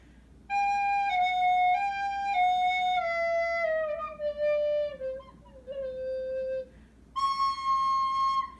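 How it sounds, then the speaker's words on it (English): A recorder plays a simple, slow melody of sustained, breathy notes stepping downward, then jumps to a higher note, fairly close and alone. "So if I wanted to play this on the recorder"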